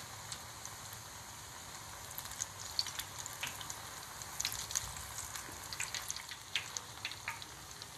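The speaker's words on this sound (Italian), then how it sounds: "Friggere, ma fare attenzione in quanto i cenci cuociono velocemente." Cenci fritters, thin strips of sweet dough, fry in hot oil with a steady, soft crackling sizzle and scattered small pops throughout, fairly quiet and with no talking.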